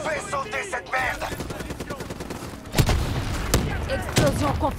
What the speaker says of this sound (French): Explosion confirmée.